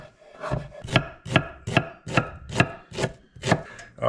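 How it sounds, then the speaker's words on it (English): A knife chops vegetables for Italian wedding soup, landing about eight crisp, evenly spaced strikes on a wooden cutting board, close and clear, with no talk. "we're gonna start cutting our veggies up"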